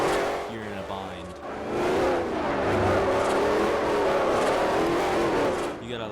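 Fully built Ford Shelby GT500 drifting in Forza Horizon, its engine revving hard and sustained, loud and close, with tire noise and a voice talking over it.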